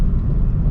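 A Subaru BRZ engine pulls hard under full throttle on a winding mountain road, a close, loud, deep droning rumble for a brief moment.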